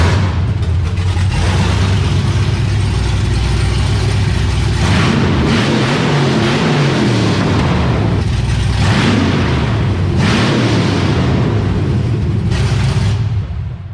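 A supercharged LSA V8 in a 1972 Monte Carlo, running with open headers, roars loudly and close up through repeated hard revs that rise and fall over steady rough idle, with no talk over it.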